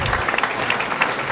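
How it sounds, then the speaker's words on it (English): Guests receive a short burst of applause in a Los Angeles City Council chamber during a regular meeting, a brief, fairly loud patter of many hands clapping with no talk over it. "please give them a big round of applause"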